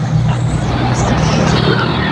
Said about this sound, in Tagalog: Ingay ng truck.